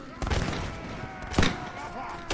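Musket volleys crack during a London siege in the video game L'Aigle campaign, a few sharp shots scattered over a continuous background of battle noise, with someone talking throughout.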